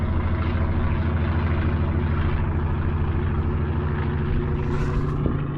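A propeller airplane drones steadily overhead in the Alaska backcountry of Wrangell-St. Elias National Park, a continuous loud engine hum with no talking.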